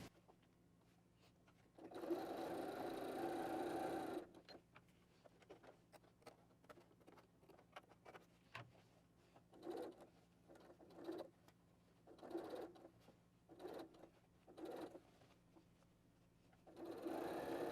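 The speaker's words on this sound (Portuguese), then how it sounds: "E agora a gente vai costurar a partir daqui do meio para o outro lado." Sewing machine stitching a canvas tote bag from the middle outward, a quiet close whir starting with a two-second run, then a series of short start-stop bursts between soft handling clicks.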